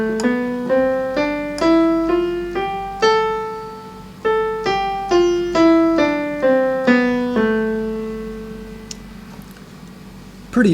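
Piano playing the A Aeolian (natural minor) scale, single notes struck one after another in a steady stepwise run up and back down, each decaying gently, moderately quiet and alone.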